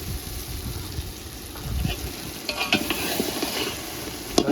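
Mixed vegetables with whole garlic cloves sizzle in a pan for a garlic shaak, a close, steady frying hiss with light stirring clicks and scrapes.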